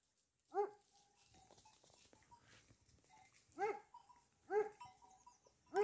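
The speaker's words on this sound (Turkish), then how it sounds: "Uzaktan uzaktan havlıyor." A dog barks from a distance near grazing sheep, a single bark followed after a pause by three more spaced barks, with faint outdoor background between them.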